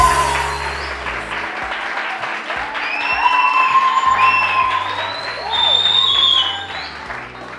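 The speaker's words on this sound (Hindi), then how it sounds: "इनके लिए बहुत सारी तालियां" A studio audience at a television morning show breaks into applause with some cheering and whoops, rising to a loud sustained clatter mixed with bright music stings before easing off.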